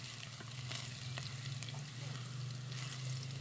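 Garlic frying in an electric pot sizzles steadily with crackling pops and a low hum underneath, close and moderately quiet, without a break.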